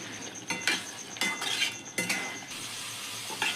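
Chickpeas go into an oily masala with yogurt and are stirred in a pot, the spoon scraping and clinking against the metal in a few bursts over a soft background sizzle.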